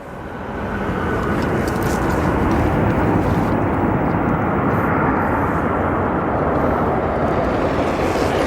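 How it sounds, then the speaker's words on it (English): A Boeing 777 passing over Runway 10 Center at Chicago O'Hare, a loud, close, broadband jet roar that swells in during the first second and then stays powerful and sustained to the end. "A beautiful Boeing 777 flying over Runway 10 Center here at"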